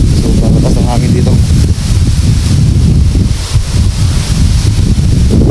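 Strong wind buffets the microphone in a constant low roar, with a brief voice breaking through early on.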